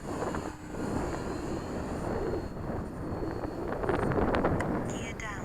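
An FMS 1400mm FW-190 RC model airplane flies overhead during touch-and-go practice, its engine drone steady and moderately distant under wind noise on the microphone.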